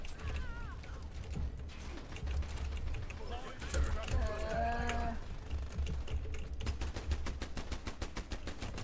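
Rapid bursts of automatic gunfire in the online shooter Dirty Bomb, crackling in quick rhythmic strings amid game effects, with players talking and exclaiming over the shooting.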